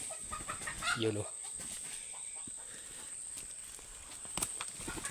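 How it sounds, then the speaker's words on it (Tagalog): A wild junglefowl caught in a snare gives a brief, close cluck near the start, followed by faint rustling and footsteps outdoors. A person speaks briefly. "huli sa palabay yung labuyo na humalpok sa ating pangati"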